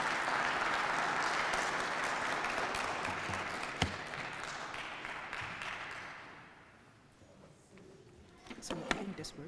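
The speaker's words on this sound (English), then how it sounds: "Please, let's give a round of applause to welcome Dr." Audience at a keynote lecture applauding to welcome the speaker, a steady wash of clapping that fades out after several seconds, followed by a few handling knocks and faint voices.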